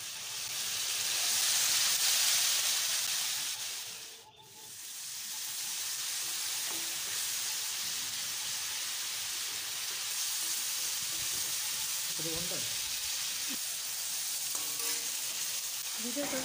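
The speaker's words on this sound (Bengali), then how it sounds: "তারপর জল যাতে ঠিকঠাকভাবে অ্যাবজর্ব হয় আর শুখা মাছগুলো নরম হয়, সেই জন্য 5 মিনিট এটাকে স্টিমিংয়ের জন্য চাপা দিয়ে রাখবো" Dry fish steaming and sizzling in a covered pan, a steady, fairly loud broadband hiss with a brief dip midway and a few faint clinks near the end.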